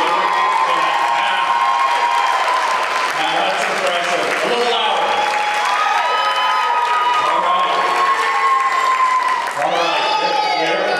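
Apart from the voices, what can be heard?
convocation crowd cheering and applauding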